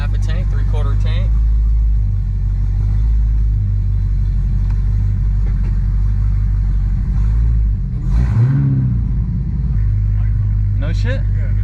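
A Dodge Hellcat Charger swapped to a 6-speed manual hums along with a heavy, constant low rumble heard from inside the car, with short bits of voices at the start and end.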